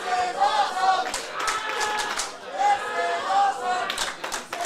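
A wrestling crowd cheers and claps in sustained, rhythmic bursts, with commentators talking loudly over the noise throughout.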